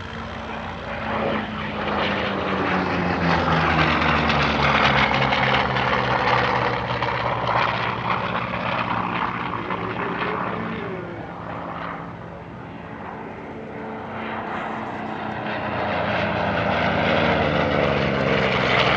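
Vintage warbird propeller aircraft fly past at an airshow, a loud, sustained droning engine roar that swells and fades as the planes sweep overhead, heard alone without talk.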